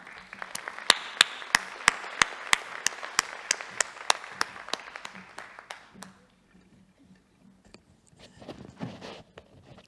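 Audience applause at the opening of a conference session, honouring the vice-presidents and speakers: a few seconds of steady clapping with sharp individual claps standing out, fading out by about six seconds, followed by faint shuffling.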